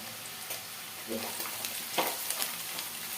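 Peanuts frying in oil in a pan for lemon rice, a steady soft sizzle with a few brief stirring scrapes and clicks, close and moderately quiet, no voices.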